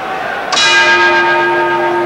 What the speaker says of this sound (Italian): Suona il gong della 15ª, ultima ripresa, ultimi 3 minuti di lotta.